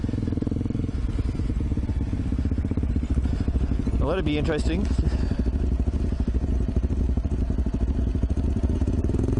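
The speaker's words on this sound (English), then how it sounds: "I keep forgetting to let the clutch out and just let this bike crawl down." A dual sport motorcycle crawls down a rough trail at One Tree Hill, its engine chugging steadily with clatter and scraping over rocky ground, while a rider speaks briefly over it.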